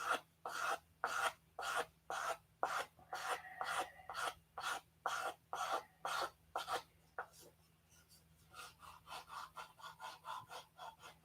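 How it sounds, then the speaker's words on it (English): Sandpaper rasps back and forth on a P-47 model wingtip in a regular rhythm of about sixteen close strokes, followed by quicker, softer rubbing strokes. "Now you see me sanding back and forth."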